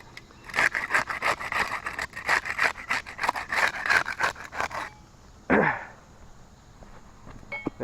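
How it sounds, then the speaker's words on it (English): A putty knife scrapes repeatedly under a top-row asphalt roof shingle to break its seal, giving rhythmic rasping strokes close by, followed by a pause and a single longer scrape. "We'll start with the putty knife. We'll use that to unseal the top row shingle there."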